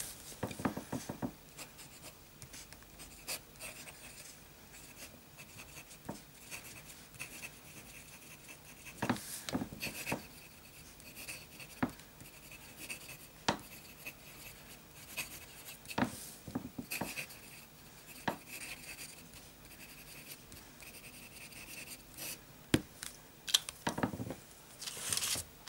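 A Papier Plume fountain pen with an italic nib scratches across paper, faint intermittent strokes with soft scraping and tapping in a quiet room, no voices.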